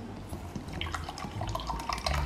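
Cold water poured and running into a bowl for mixing garri, a steady splashing liquid flow that lasts throughout, fairly close and moderately loud, with no voices over it.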